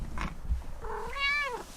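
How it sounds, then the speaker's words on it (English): A cat lets out a single short meow, fairly close but soft, preceded by a faint bump and some quiet rustling inside a van being converted. "Meow."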